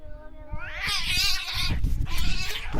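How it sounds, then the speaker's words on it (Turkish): Cats yowl and caterwaul in long, wavering, rising cries, loud and close, with hissing and scuffling noise beneath the howls. "Bugün sizlere arkadaşlar kedilerin kavga videosunu göstereceğim."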